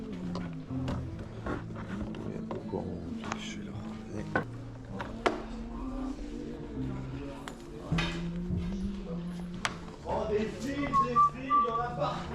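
A sound technician at a metal festival whistles a wandering tune close by, over scattered clicks and clatter from the surrounding work area.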